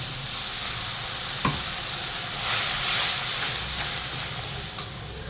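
Water poured into a frying pan holding poppy seed paste, giving a steady broad sizzle and hiss that swells midway and then settles, with a few faint clinks.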